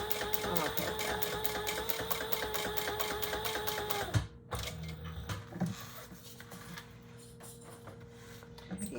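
A sewing machine nicknamed the thumper, stitching a large Jordan pouch case, runs in a steady fast rhythm with a repeated mechanical knock for about four seconds, then stops, leaving faint handling noises nearby.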